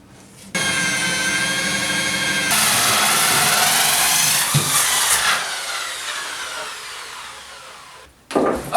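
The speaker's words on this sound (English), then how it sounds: "I made the hole here the same size as this ring here on the pipe, and as usual trimmed it with a router." A router trims a hole in a workbench top with a loud, steady high whine that runs for several seconds with no break. The tone shifts a little partway through, and the tool cuts off sharply near the end.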